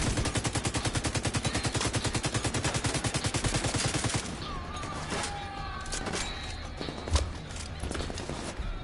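Rapid automatic gunfire in a sniping video game fires in a steady, loud burst for about four seconds, then gives way to quieter in-game ambience with one sharp shot near the end.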